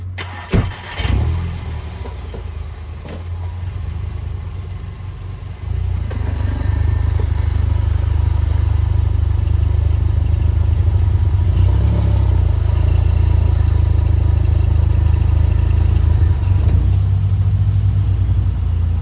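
A 2015 VW Jetta GLI engine idles, then revs as the car drives up onto ramps in a garage, growing louder and steadier after a few seconds, with a faint clunk near the start.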